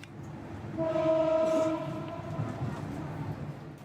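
A high-speed train in Laos near the Boten border town rumbles past and sounds a steady horn for about a second, the horn loud over a continuous rolling rail noise.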